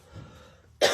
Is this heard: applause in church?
no